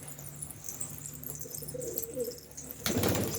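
Domestic pigeons in a loft coo softly in repeated low murmurs, with faint chirps and a burst of wing flapping or rustling near the end.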